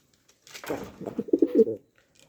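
Modena pigeons cooing close by, a run of soft, throaty rolling coos that swell and pulse in quick succession for about a second before falling quiet.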